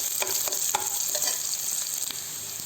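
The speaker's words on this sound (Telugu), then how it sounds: "ఒక 2 నిమిషాల పాటు మనము ఇట్లా కలుపుతూ ఉండాలన్నమాట" Onions and green chillies for semiya upma are stirred in a hot pan, with a continuous bright sizzle and occasional spatula scrapes and clicks against the metal.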